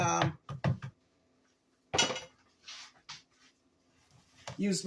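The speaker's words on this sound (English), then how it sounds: "let me make sure I get all of that stirred in there really, really good" Spatula scraping and stirring zucchini bread batter in a bowl, with quiet clinks and scrapes in short bursts between pauses, close and fairly soft.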